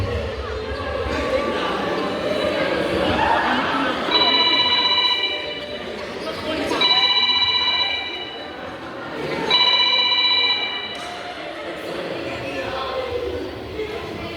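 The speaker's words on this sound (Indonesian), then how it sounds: "Aduh, kita harus telepon Felix." A telephone rings during a stage musical drama, sounding three clear bursts of bright, repeated ringing at even intervals over a murmuring audience and background noise in a hall.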